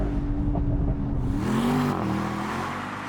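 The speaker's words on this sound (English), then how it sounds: "make sure though that you get the roof down so you can properly enjoy this V8 soundtrack" An 816 hp Mercedes-AMG SL V8 engine revs up with a rising growl, then settles back as it passes or eases off, loud and close, roof down.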